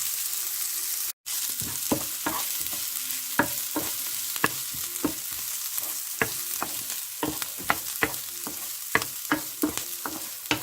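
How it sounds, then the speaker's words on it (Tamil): Dried red chillies and curry leaves, with onion, sautéing in an oiled pan: a steady hiss of frying broken by regular sharp scrapes and taps of a spatula stirring, close and clear with no talk. "மற்றது காய்ந்த மிளகாய், கறிவேப்பிலை இதெல்லாம் போட்டு கொஞ்ச நேரம் வதக்குவேன்."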